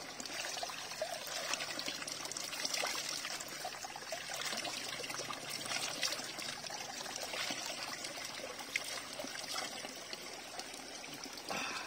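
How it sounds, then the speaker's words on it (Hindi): River water flowing steadily beside a walking path in a village near Murree, a continuous broadband rush and trickle that stays close and even throughout with no talking. "ये साथ बहती नदी"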